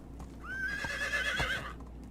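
A horse in the video game Medieval Dynasty gives a single loud, close neigh, a rising then wavering whinny, alongside a couple of hoof clops.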